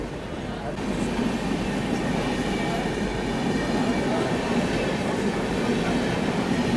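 An Indian Railways Bharat Gaurav tourist train passing on railway tracks, with a loud, steady broadband rumble and rail noise sustained throughout at close range.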